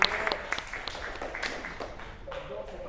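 Audience at a French talk on Bitcoin mining applauds itself, a moderate burst of clapping in a hall that fades toward the end, with some voices murmuring underneath.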